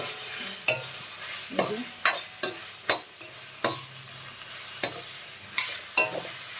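Eggplant seasoned with turmeric powder and salt being stirred in a pan, repeated sharp scraping strokes of a spatula at an uneven rhythm over a soft continuous sizzle, close up.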